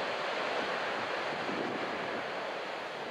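Ocean waves break steadily at Sendai Port beach, the fast, dumping surf producing a continuous loud wash of churning water with wind noise across the microphone and no voices.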